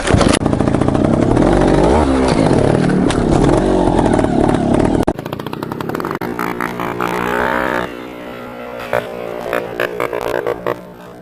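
A trials motorcycle engine, geared very low, runs loud and close, revving and puttering with a harsh, busy tone that changes character partway through as the throttle shifts.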